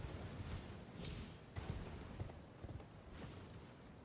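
Horse hooves clip-clop in a steady, soft rhythm in a video game, a low patter of repeated hoofbeats running throughout with a faint background hum.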